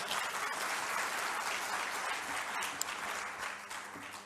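Sustained audience applause at a national gathering of a Christian business fellowship, a dense steady wash of many hands clapping that holds evenly throughout, fairly soft and distant.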